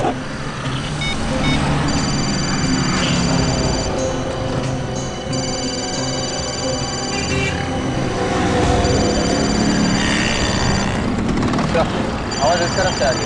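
A mobile phone rings from inside a parked car in a CID crime scene: repeated electronic ring bursts of about two seconds with short gaps, over steady background noise and a low rumble.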